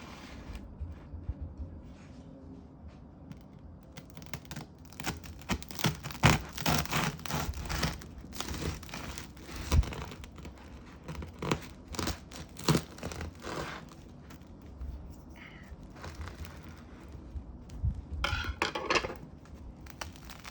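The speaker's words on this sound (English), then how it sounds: "and now we're gonna cut it." A cooled homemade sourdough loaf is sliced with a knife, giving a run of crisp, crackling crust crunches and sawing rasps that come in bursts, fairly close and moderately loud, with no talking.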